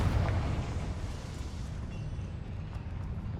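Confringo fire spell explosion in the video game Hogwarts Legacy, a burst of fiery rumble at the start that trails off into a sustained low roar and crackle, moderately loud with no talking.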